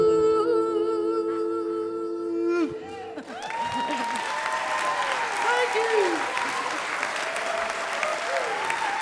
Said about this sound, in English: Thanks for all that noise. And clapping and love.